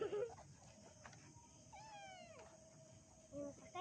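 A cat meows a few times at a moderate distance, thin rising-and-falling cries over a faint background hum and some low indistinct sounds.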